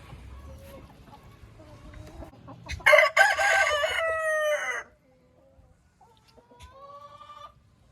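Hens cluck softly, then a rooster lets out one loud, close crow of about two seconds, followed by a short silence and more scattered clucking.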